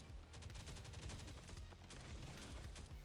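Rapid bursts of in-game gunfire in Last Day on Earth: Survival, a dense crackling volley of repeated shots running nearly continuously for about three seconds at steady, moderate loudness.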